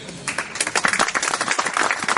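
Applause at a horse-driving award ceremony in Tápiószentmárton: a crowd claps briskly and evenly for about two seconds, with the dense patter holding steady and no voices heard.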